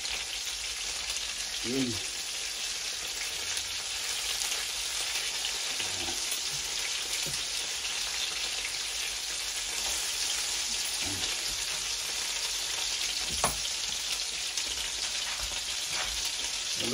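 An egg fries for breakfast with a steady, close hiss of sizzling oil running throughout, broken by a few faint scrapes and brief low voice sounds.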